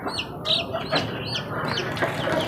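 Chicks peep in a busy, high-pitched chorus while a hen clucks softly beneath them, steady and close throughout.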